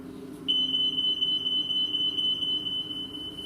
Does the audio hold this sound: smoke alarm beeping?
yes